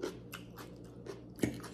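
Crunchy food chewed close to the microphone during a Filipino mukbang of ribeye steak, fried rice and red onion pickles, a series of soft crisp bites and chews with one louder crunch near the end.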